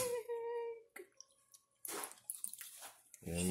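Almond milk is poured into protein pancake batter in a kitchen, giving short liquid splashes and drips between pauses, with a voice speaking over parts of it.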